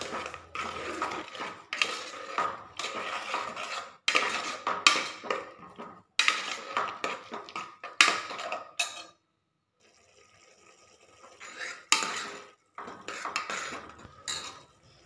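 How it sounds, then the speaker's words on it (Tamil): Tomatoes sautéing in a pan for a radish gravy, stirred hard with a metal spoon: loud repeated scraping and clanking bursts against the pan, broken by a brief quiet pause, then more stirring. "தக்காளி நல்லா பச்சை வாசனை போகிற அளவுக்கு நல்லா வதக்கணுங்க"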